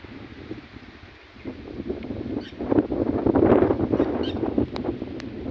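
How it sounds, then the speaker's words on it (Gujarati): Strong wind buffets the microphone ahead of heavy rain under dark skies, swelling from a low rush into louder gusts midway and holding at a rough, steady roar. "પવન હિલપાનો થઈ ગયો છે"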